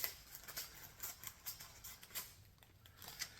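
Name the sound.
scissors cutting parchment paper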